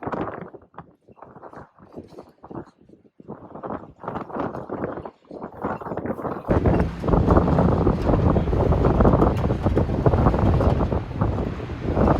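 Strong wind on a very windy morning in Mojave buffets the microphone in heavy roaring gusts, choppy and intermittent at first and then a sustained loud blast.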